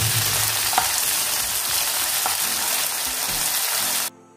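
Potatoes fry with onion and spices in hot oil, giving a loud, steady close-up sizzle with a couple of faint stirring clinks. The sound cuts off abruptly near the end, and no one talks.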